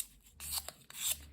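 A part of a rubber-powered model airplane is sanded to round its edges, making quiet, close scratchy rasping strokes in a few uneven bursts.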